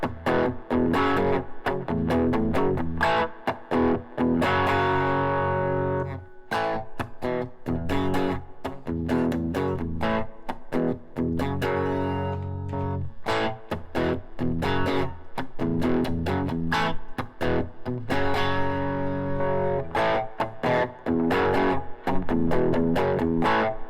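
Heavily overdriven electric guitar riff through stacked overdrive pedals, including a Klon-style drive, on a Tone Master Pro, loud and continuous with chugging, rhythmically cut chords and sustained distorted notes, with no talk.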